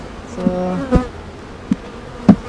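Honeybees buzz around a feeder in a beekeeping yard, a steady close hum with a few sharper passes as individual bees fly near, no voices.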